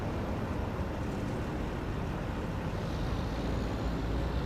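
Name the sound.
road traffic in video game American Truck Simulator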